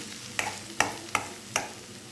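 A spoon stirs crab curry with coriander powder in a pan, four distinct scraping strokes evenly spaced over a soft sizzle.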